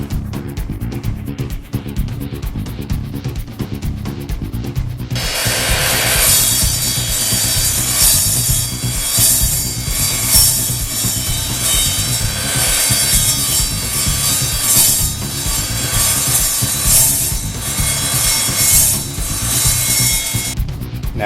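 An Evolution RAGE 3 saw cuts 1/8 inch thick, 3 inch wide plate steel. Quiet motor hum gives way abruptly to a loud, harsh, bright screeching grind that continues steadily with slight pulsing, with no talk.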